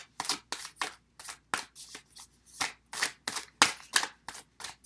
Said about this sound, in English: let's pull an oracle card here